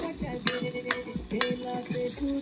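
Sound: chicken with potatoes frying in a pan

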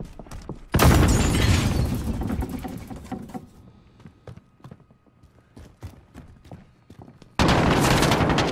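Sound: gunfire in Call of Duty video game

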